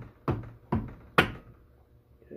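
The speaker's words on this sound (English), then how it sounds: "I'm just going to tap it nicely." Three sharp taps spaced about half a second apart as a hammer drives a shift shaft seal into a Subaru extension housing, close and fairly quiet with a short ring after each hit.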